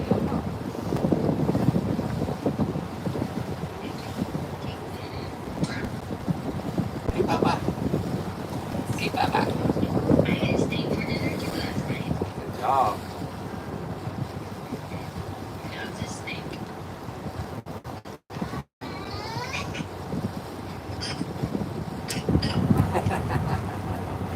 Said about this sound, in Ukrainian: Пливемо до острова Лідо.